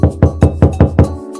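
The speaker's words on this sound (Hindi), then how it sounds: "भेड़िया बकरी के घर पर आया और दरवाजा खटखटाने लगा" A wolf knocking on the goats' door in an animated story, five loud, evenly spaced knocks on wood in quick succession, close and clear, with no voices.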